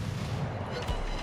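Heavy naval gunfire from warship turrets in the World of Warships naval combat game, a dense rumbling boom that fills the short moment, loud and close, with a deeper thump near the end.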